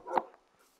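A single short dog bark from the Minecraft video game, faint and quick, then quiet.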